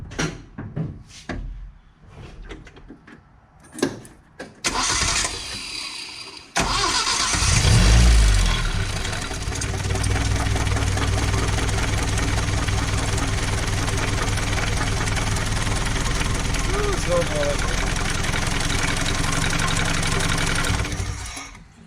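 Datsun 521 pickup truck engine with its valve cover off, heard first through a few scattered knocks and clicks, then cranking, catching and settling into a loud, steady, chattering idle that continues to the end.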